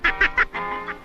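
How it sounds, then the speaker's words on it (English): A cartoon goose honks in a quick burst of three sharp, nasal squawks followed by a longer drawn-out honk, clear and close with no talk over it. "Mad goose!"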